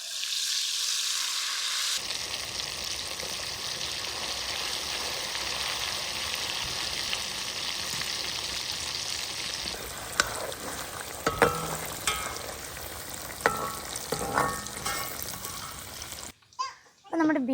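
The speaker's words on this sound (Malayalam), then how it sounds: "ഇനി നമുക്ക് ബീഫ് ഇട്ടൊന്ന് ഫ്രൈ ചെയ്തെടുക്കാം." Beef dropped into hot oil for Kerala-style beef pickle, starting with a sudden loud hiss that settles into continuous sizzling, then stirring scrapes and knocks; voices chatter faintly in the background.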